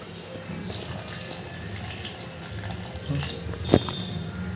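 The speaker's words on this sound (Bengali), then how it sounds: "এখন ঠান্ডা জল দেওয়া হবে।" Cold water poured into a raw mango paste for mango juice, a steady running, splashing pour from near a sink tap with a brief clatter near the end, heard alone.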